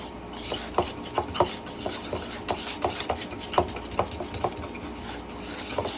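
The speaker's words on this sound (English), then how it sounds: "I usually get like a whisk, something like that, so you can evenly distribute the ranch seasoning all over." A whisk stirs ranch seasoning into a mayonnaise mixture in a bowl, making soft, rhythmic scraping and tapping strokes at close range.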